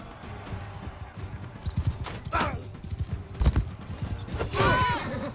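Horses gallop across a battlefield in the video game Mount and Blade Bannerlord, their rapid hoofbeats mixed with clashing combat noises and a whinny, all fairly loud and busy.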